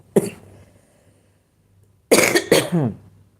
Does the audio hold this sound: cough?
yes